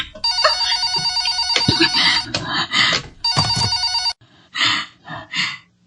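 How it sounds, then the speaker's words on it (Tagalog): A telephone bell rings loudly and close by in repeated bursts with short silent gaps between them, and no one talks over it. "telepono. Nagring."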